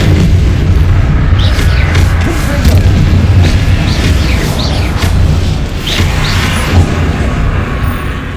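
Repeated booming blasts of the Confringo explosive spell in the Hogwarts Legacy video game, heavy low rumble and bursts spread across a dense, continuous battle soundscape.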